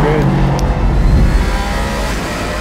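A Porsche race car at Le Mans roars past, its engine note loud and droning with a brief pitch sweep early on, then settling into a steady rushing whir, with commentators talking over it.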